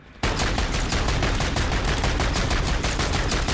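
In Modern Warfare Zombies, a gun opens up after a brief pause and keeps firing in a loud, dense, unbroken automatic stream to the end, with no voices.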